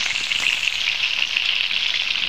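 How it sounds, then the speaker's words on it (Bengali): Marinated prawns frying in a pan, added one at a time, giving a bright continuous crackling sizzle close and loud with no talk. "ম্যারিনেশন করা চিংড়িটা দিয়ে দিচ্ছি। আমি এক এক করে আমি ভেজে নিচ্ছি।"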